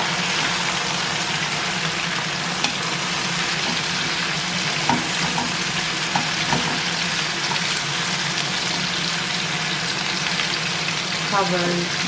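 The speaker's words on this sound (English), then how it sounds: "Cover it up. Stir a little bit." Vegetables cooking in a covered pan give a steady hiss of frying, with a few soft stirring knocks partway through, under a constant background hum.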